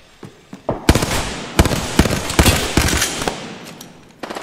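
Loud, close gunfire in the Apex Legends video game, with rapid automatic bursts and sharp individual shots crackling over a few seconds.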